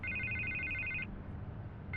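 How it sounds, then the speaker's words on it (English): A telephone rings in the video game Batman: The Telltale Series, an electronic trilling burst for about a second, a pause, then the ring starting again, alone and fairly quiet. "I can't get the phone to stop ringing."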